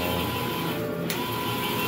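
An eco solvent printer runs steadily at close range, giving a constant mechanical hum and whir with a faint tonal whine and a brief click as the print head moves, with no speech.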